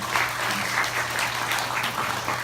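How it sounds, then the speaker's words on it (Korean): A crowd applauds steadily, dense clapping filling the whole stretch at an even level, with no voices standing out. "박수 한번 부탁드리겠습니다"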